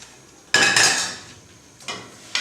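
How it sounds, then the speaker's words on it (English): Risotto being stirred in a pot, two bursts of a spoon scraping and clattering against the metal, loud and close, with a short pause between them. "Little stirring"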